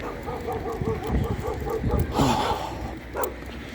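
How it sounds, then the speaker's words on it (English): A hound barks outdoors in Vienna, a run of repeated yelping barks at a moderate distance mixed with other background noise. "And the hound is barking as always."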